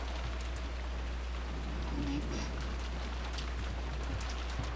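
Steady rain pours in a visual novel scene, a constant even hiss with scattered drops, while a soft voice speaks briefly under it.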